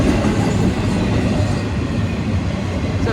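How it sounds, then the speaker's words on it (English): A large train rolls past close by, a loud, steady rumble of heavy rail cars with faint clickety-clack from the wheels, continuous throughout with no talking. "It's a bigger train"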